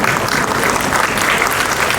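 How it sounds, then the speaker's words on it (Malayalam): Sustained audience applause at a Malayalam film event speech, loud, dense clapping filling the hall evenly from start to finish with no break. "കൈയടി വാങ്ങിച്ചിട്ട് പോകും പ്ലീസ്."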